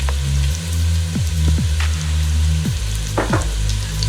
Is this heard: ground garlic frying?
yes